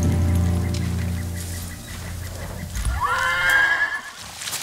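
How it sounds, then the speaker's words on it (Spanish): A samurai horse in the video game Ghost of Tsushima gives a loud, close neigh with a rising whinny near the end, over light rain and a few hoof clops. "¿Qué caballo quiere?"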